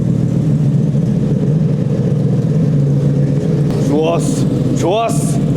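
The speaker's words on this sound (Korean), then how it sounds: "와, 배기음" A classic Shelby Cobra's engine burbles loudly at close range with a deep uneven exhaust rumble, then two sharp blips of the throttle rise and fall near the end, while a person speaks over it.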